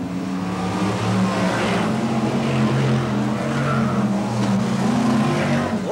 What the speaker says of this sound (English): What a tremendous sight then these BriSCA Formula 1 stock cars are displaying here at King's Lynn tonight in this Heat 2 race